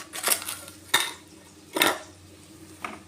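A spoon scraping and knocking in a pan as boiled potatoes are mixed into cauliflower, four distinct metallic clanks spaced about a second apart over a soft background.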